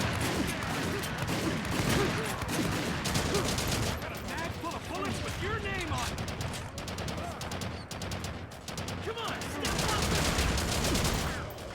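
Shotgun fire in the video game HAZE, a dense, continuous clatter of shots mixed with other combat noise, loud and steady throughout.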